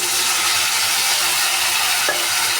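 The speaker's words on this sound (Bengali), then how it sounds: "আলু আমার লাল লাল করে ভাজা হয়ে গেছে, এবার আমি দেবো এতে মশলা।" Fried potatoes and spices sizzle loudly and steadily in a pan, a close, dense hiss with a single stirring knock near the end.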